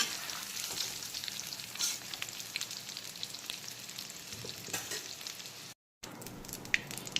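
Cashews and raisins fry gently in hot oil left from frying potatoes and fish head, giving a steady, soft sizzle with fine crackles, close and quiet, with one brief dropout.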